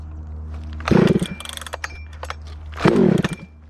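A Husqvarna 359 chainsaw revs in two short bursts of a couple of seconds each, loud and close, with a steady low idle hum running between and beneath them.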